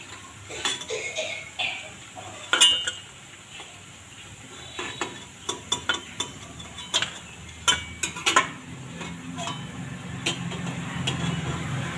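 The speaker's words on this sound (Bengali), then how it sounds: "এবার আমি এই কচুর বড়াগুলো তুলে" Crispy fried taro fritters being lifted out of a frying pan, with scattered clinks and scrapes of a utensil against the pan over a faint background sizzle of oil, irregular and close.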